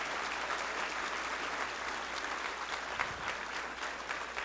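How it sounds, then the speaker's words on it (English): An audience at a spiritual talk on emotional detox gives a big hand, a continuous, even roar of many people clapping at once, filling the room without pause. "Give a big clapping"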